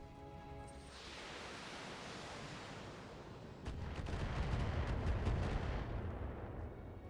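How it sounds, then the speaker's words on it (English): An Atlas mech in BATTLETECH takes heavy weapons fire, a rumbling roar of artillery-like blasts that swells into a louder, denser barrage of impacts partway through. "I'm under heavy fire here."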